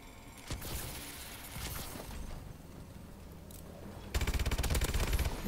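KF5 Elite submachine gun in Advanced Warfare gun game: scattered shots and background combat, then a fast, steady automatic burst near the end.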